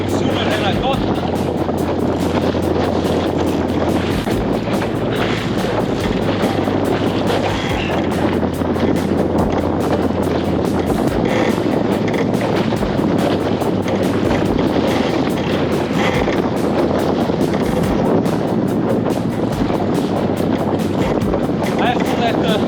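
Wind gusts buffet a small sailboat, a Goat, rigged with a balanced lug sail in roughly 20-knot gusts, making steady broadband roaring and rumbling with low droning wind noise on the microphone throughout.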